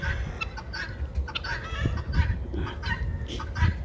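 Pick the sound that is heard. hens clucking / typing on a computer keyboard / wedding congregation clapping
hens clucking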